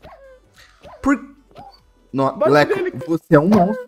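A dog in a Minecraft video game gives a few short barks and yips, then people start talking loudly over it.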